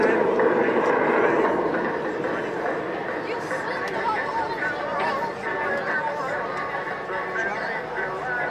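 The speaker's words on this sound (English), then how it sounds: "Flying the aircraft today, Sean Chiddington leading the pair" Strikemaster jet aircraft fly at the Blackpool Airshow, a broad, steady roar sounding distant and sustained, with crowd chatter and a commentator's voice layered over it.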